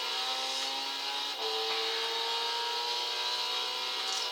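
Red Bull X2014 Junior race car in Gran Turismo 6, its engine holding a steady high-pitched drone with a brief dip in pitch partway through, loud and continuous with no talk.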